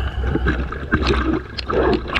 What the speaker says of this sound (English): I apologize that the water noise is quite loud.